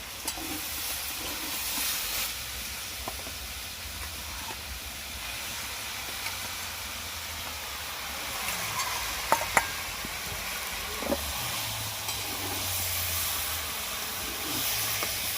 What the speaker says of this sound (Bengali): এইভাবেই আস্তে আস্তে লেড়ে লেড়ে গুড়টাকে পাকাতে হবে